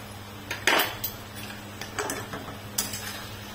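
Masala okra with peanut powder being stirred in a pan, with a spoon clinking and scraping against the pan in scattered taps and knocks over a low steady background hum.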